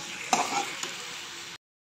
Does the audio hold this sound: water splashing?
no